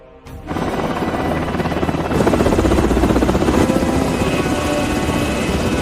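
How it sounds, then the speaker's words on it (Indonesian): Two helicopters' rotors thump loudly and steadily, growing stronger after a couple of seconds as they draw near, with a constant whine underneath. "Ada 2 helikopter yang datang, namun hanya 1 yang mendarat."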